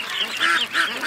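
A small lame duck quacks in a few short, close, nasal bursts that rise and fall in a loose rhythm, with no voices over them.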